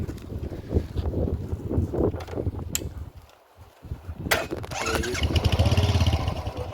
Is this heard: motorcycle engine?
yes